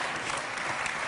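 A talk-show studio audience breaks into a brief, dense burst of loud, steady applause.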